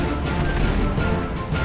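Gunfire in the GTA Online video game, a dense burst of loud, continuous shooting and crashing noise that fills the whole moment with no pauses.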